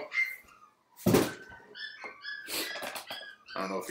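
Several puppies yip and whimper in short high-pitched bursts in the background, interleaved with someone talking nearby, with a sharp clatter as a trading card case is opened.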